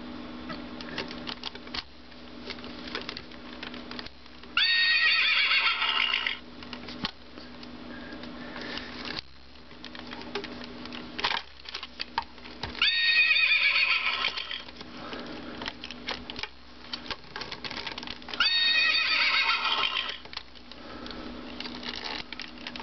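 A Barbie Tawny show horse toy gives three loud electronic neighs spaced several seconds apart, with a quieter mechanical clicking clip-clop patter running between them and no talk.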